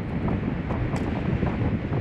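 Strong wind gusts buffet the microphone outdoors among small orange-fruited trees, a loud, rough, continuous rumble with no talking.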